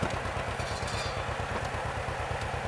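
A tractor engine lugs down under heavy load, its low, steady pulsing thrum running continuously and fairly close, with faint mechanical clatter above it.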